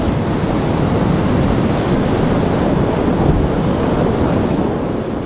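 A strong northeasterly storm wind roars over rough Adriatic waves at Durrës during a force 6 sea, making a loud, constant rush of wind and surf with heavy buffeting on the microphone.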